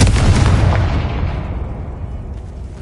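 A heavy booming blast from the Confringo fire spell in a Hogwarts video game, a loud low explosion that rolls and fades over a few seconds with no voices.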